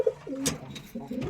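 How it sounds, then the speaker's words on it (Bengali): Madrasi pigeons kept at a home loft in Rajshahi cooing close by, two short soft throaty coos with a faint rustle between them. "ভাইয়ের বাসাতে মাদ্রাজি কবুতরই অনেক।"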